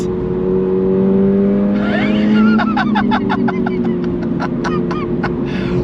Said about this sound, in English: Downshift, nice.